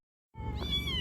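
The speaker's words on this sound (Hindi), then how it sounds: "देखिए ना बिल्ली लाए हैं" A cat gives one drawn-out, fairly loud meow close by after a moment of silence, with no talking over it.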